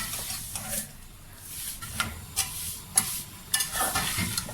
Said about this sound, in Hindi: सेवइयों को हम थोड़ा सा भून लेंगे।